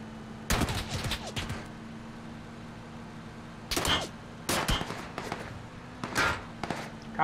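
Bursts of rapid gunfire in the video game PUBG crackle in short volleys, separated by pauses, over a steady low hum; loud and close.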